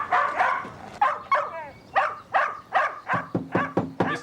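A dog behind a rural house barking repeatedly in a steady, loud series of close barks with a few yips and a short whine.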